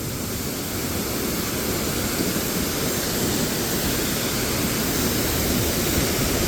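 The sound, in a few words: Thoseghar waterfall falling with full force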